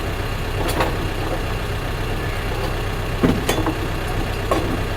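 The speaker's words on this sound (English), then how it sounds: "Hopefully you guys can hear me over the tractor." A steady low tractor engine rumble runs throughout, idling nearby beside a hay barn, with a few brief clanks and knocks on top.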